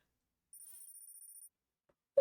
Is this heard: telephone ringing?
yes